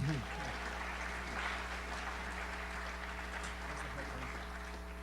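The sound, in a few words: audience applause at a panel talk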